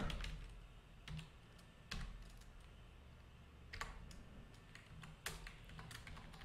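HTML code typed on a computer keyboard: soft, close key clicks in small irregular bursts with sharper strokes now and then over quiet room hum, no talking.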